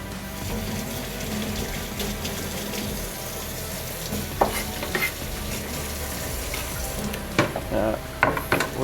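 Angus T-bone steak sizzling in a hot pan, a constant dense frying hiss throughout with occasional louder pops and scraping clatters near the end.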